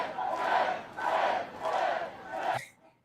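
A crowd roars in four broad surging waves of cheering and chanting, loud and dense, each swell rising and falling before cutting off into near silence.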